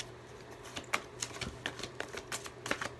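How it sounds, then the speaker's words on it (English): A deck of playing cards shuffled by hand, giving a run of quick, crisp riffling clicks and flutters in irregular bursts, close and fairly quiet, with no talking. "I don't know why I'm shuffling this deck"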